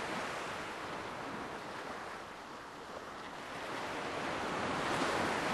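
Gentle ocean waves wash in and out under a soft, steady breeze in a video game soundtrack, distant and even, swelling slightly louder toward the end.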